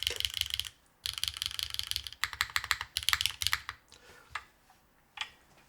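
Zero-G EM-01 mechanical keyboard keys, with no case foam, clack in rapid bursts, close and crisp, with short pauses between runs of typing.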